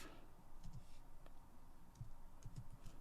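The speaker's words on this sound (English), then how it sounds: "I'm just typing something now" Typing on a computer keyboard while writing JavaScript code, a quiet, irregular run of soft key clicks and taps close to the microphone, with no talking.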